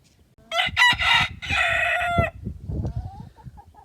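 A rooster crows from a chicken coop on a Bulgarian homestead, one loud full crow in the morning, followed by softer clucking and hen calls.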